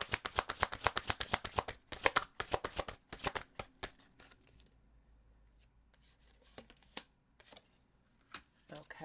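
Tarot cards being shuffled by hand to draw an advice card, a rapid run of crisp riffling flicks that thins into scattered soft taps and slides, close and fairly quiet, with no talking.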